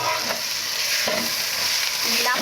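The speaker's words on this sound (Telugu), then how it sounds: "చూసారు కదా, ఇలా ఫ్రై చేస్తూ ఉండాలి." Fish eggs fry in a pan on a gas stove, a constant loud sizzle broken by a few scraping stirs of a utensil, close up with no talking.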